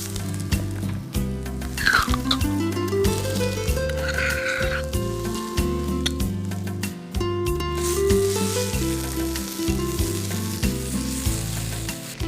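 Boiled potato pieces fry in a pan, giving a steady sizzle with stirring scrapes and clinks. Loud background music plays over it throughout, and no voices are heard.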